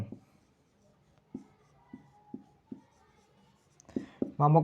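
Handwriting strokes of a math solution on paper, a series of soft, separate scratches spaced about a second apart, ending with a brief voice.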